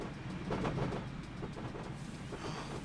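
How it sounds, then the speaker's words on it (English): King Class steam train running along the Riviera Line by the sea, heard as a rumbling, rhythmic clatter of wheels over rail joints with a moderate, fairly close roll. "Trains by the sea."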